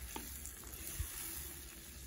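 A large pot of lecho tomato stew bubbles and simmers steadily on the stove, a soft, even hiss with a few faint pops, no voices.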